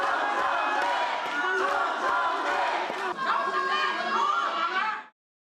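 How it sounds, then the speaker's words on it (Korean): At a Korean party candidates' policy speech event, a large crowd booes and chants at once, a dense roar of shouting voices that rises mid-clip and then cuts off. "후보들이 나란히 참석한 정견 발표에서는 야유와 연호가 뒤섞였습니다"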